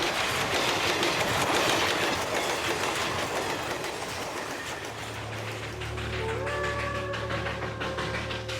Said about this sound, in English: the super-fast express trains command the rails and are moving India into a